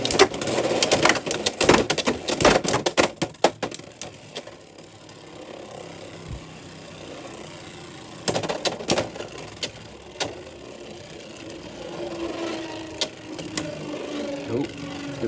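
Beyblade X tops clash and rattle in a stadium battle, with a burst of sharp rapid impacts followed by quieter scraping and whirring, then more scattered hits, and a voice talking at times.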